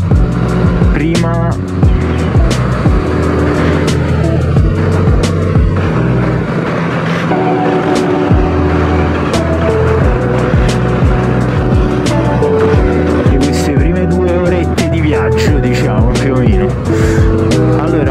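A newly bought motorcycle's engine drones while being ridden, its loud harmonic whine rising and falling in pitch continuously for the whole stretch.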